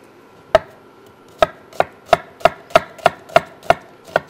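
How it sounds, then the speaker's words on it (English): A knife chops an onion on a cutting board for a simple dice: about ten crisp, evenly spaced knocks, close and loud, with no talking. "we're just going to give this a real quick, very simple dice"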